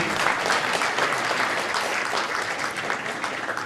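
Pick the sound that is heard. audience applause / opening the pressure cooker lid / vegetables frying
audience applause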